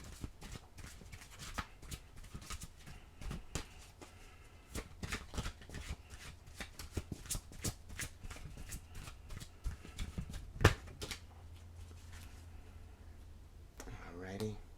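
Oracle cards are shuffled in a long, loose run of soft riffling and flicking clicks, close by and uneven in rhythm, with a sharper snap near the end and a brief murmur of voice at the very end.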